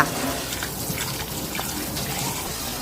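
Tap water runs steadily as a hollowed-out pumpkin is washed in a sink, a continuous close splashing rush with no talk.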